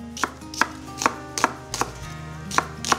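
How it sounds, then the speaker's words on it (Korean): An onion sliced with a knife on a cutting board, giving about eight crisp, evenly spaced chops, close and clear with no talk. "양파 한 개는 슬라이스로 썰어서 준비해 주시고요"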